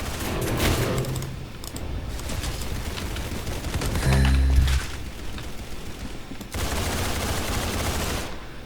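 Rapid video game gunfire from the shooter Arsenal comes in dense bursts, with a heavy loud stretch in the middle and another sustained volley near the end.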